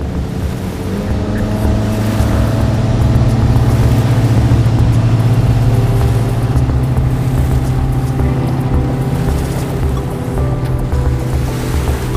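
A boat motor runs at sea on the way to the wreck of the Saint-Jean, a steady droning hum under splashing water and wind that holds evenly throughout, with no talking.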